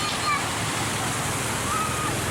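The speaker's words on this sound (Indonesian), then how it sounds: "Ini banjir, cuma tidak sampai setengah jam hujan," Flood water rushing along a street in the Sukarame area of Medan after less than half an hour of rain, a steady, loud, broadband wash with splashing that continues throughout.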